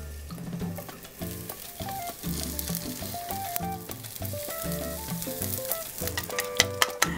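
Sliced zucchini sizzling in a frying pan for a Mexican omelet, with a steady close frying hiss under bright background music and no talking.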